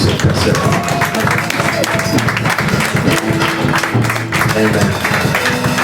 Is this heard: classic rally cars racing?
no